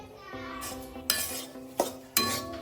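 A metal spoon or spatula scrapes and clinks against a pan as wheat flour is roasted and stirred, with a faint sizzle underneath and three sharper knocks spaced about a second apart.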